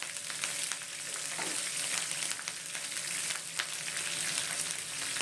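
Chopped green chillies fry in hot oil for lemon rice (chitranna), giving a steady, close crackling sizzle with occasional sharper pops and stirring scrapes, with no voices.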